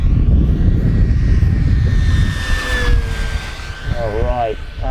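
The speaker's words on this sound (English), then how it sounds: "Give you another fast pass down the runway." An aerobatic model airplane roars past on a fast pass down the runway, its loud engine whine rising and sliding in pitch as it passes close by, with a voice talking briefly near the end.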